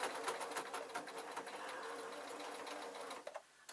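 A sewing machine running steadily in a fast, even whir of stitches for a few seconds, close by, then briefly slowing and stopping before starting again.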